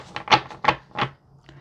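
Tarot cards shuffled by hand during a card reading: three quick bursts of crisp papery riffling, close and fairly loud, followed by a softer fourth flutter.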